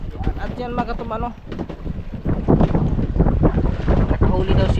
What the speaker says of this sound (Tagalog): maalon at mahangin at medyo maulan